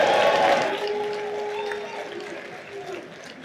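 A comic-con crowd at an AEW wrestling panel in New York cheers and applauds loudly, then fades to a lingering murmur over a few seconds, with a voice talking over it.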